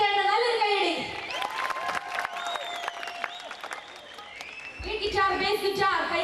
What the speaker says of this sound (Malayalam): അവർക്ക് കൊടുക്കുന്ന ഏറ്റവും വലിയ സമ്മാനമായിരിക്കും നിങ്ങൾ കൊടുക്കുന്ന കൈയടി